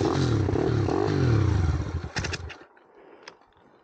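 Motorcycle engine running on a road after the revs were turned down, a loud rough rattling drone that cuts off abruptly midway, leaving faint clatter and a brief knock.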